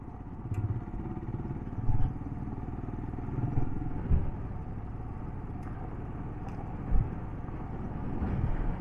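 Royal Enfield Himalayan motorcycle riding off-road in the Filabres hills of Spain, a steady low engine rumble with occasional knocks and clatters from the rough track, no talking.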